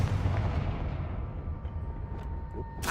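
Confringo blast in Hogwarts Legacy: a deep, rumbling fire-spell explosion that booms and then decays over a few seconds, with a sharp crack near the end.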